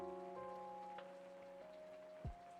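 A shower runs inside an apartment, giving a faint, steady hiss of falling water under a tonal hum, with a brief low thump near the end.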